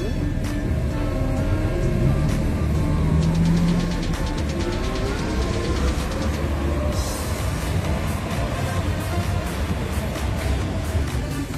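Tram passing at Hillsborough, a loud close rumble with rising and falling wheel squeal and motor whine, steady rolling noise and a brief hiss partway through, no talking.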